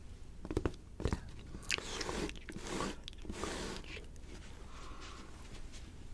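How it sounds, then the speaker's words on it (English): Close, crisp tapping and scratching noises in quick irregular bursts, soft and intimate, with brief rustly scrapes between sharper taps. "allow me to tap, tap, scratch, scratch, scratch, making some lovely sounds"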